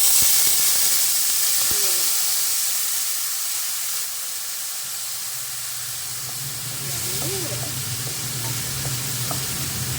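Pork sizzles loudly in a hot pan, and when water is added a hissing steam burst follows, then it settles into a quieter simmer with a low hum and light stirring scrapes.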